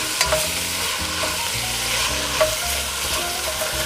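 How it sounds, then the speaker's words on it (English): A spoon stirs and scrapes the bottom of a soup pot as onion, sausage and pork fry, steady sizzling with close, repeated scraping strokes throughout and no voices. "I'm actually kind of scraping the bottom too while I'm tossing around the onion, sausage, and pork mixture"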